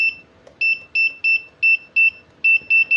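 A faulty Godox DE300 studio flash that will not fire gives off a string of short, loud, high electronic beeps, about nine in an evenly spaced series, heard close and alone.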